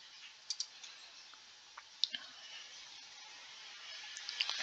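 Several sharp computer mouse clicks, a pair near the start and scattered single clicks later, close and quiet over a faint steady background hiss.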